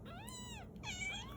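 A kitten meows twice, two drawn-out rising and falling cries close by, over a steady low background hum.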